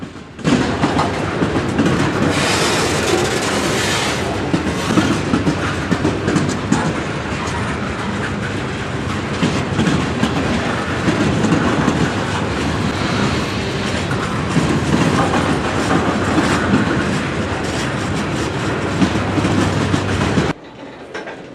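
Long freight cars, including older TTX boxcars, roll steadily past at close range, a continuous loud rumble with rhythmic clacking of wheels over rail joints, cutting off abruptly near the end.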